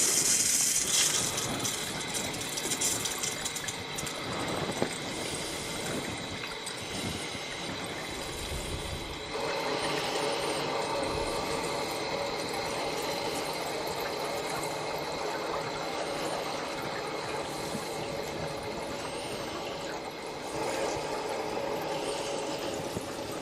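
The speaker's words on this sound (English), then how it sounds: "for the main water pump, I'll slowly turn that on" A main water pump feeding a Kinetico Aquarius water softener system runs steadily for over twenty seconds as it fills the water line, a continuous mechanical whir and hum with rattling, hissing texture, close and fairly loud, no talking.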